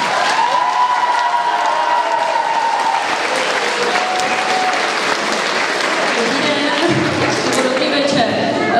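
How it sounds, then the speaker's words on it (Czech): Sustained applause from an audience at a primary school academy evening in Žihle, greeting the headmistress as she comes on stage, a steady dense clapping that holds loud and even throughout. "Asi tolik potlesků jsem si nezasloužila já"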